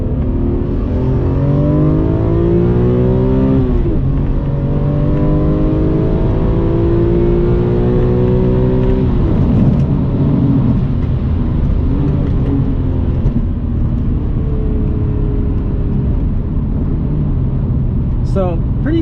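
BMW E46 pulling hard through several gears, the engine note climbing repeatedly from inside the cabin with a loud, steady drone. A voice talks over it.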